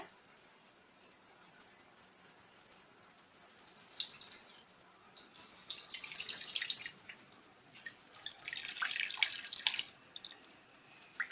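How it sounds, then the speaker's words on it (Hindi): Close, quiet dripping and splashing of water in bursts, like liquid being wrung and squeezed out of kofta ingredients by hand over a bowl in a kitchen. "ये देखिए ऐसे करके आपने इसका पानी निचोड़ लेना है।"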